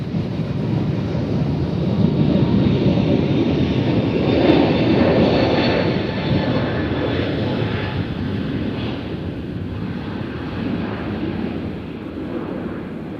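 An airliner takes off from Nashville International Airport bound for Las Vegas, its jet engines giving a loud, broad roar that swells and then slowly fades as the aircraft climbs away, with no talk.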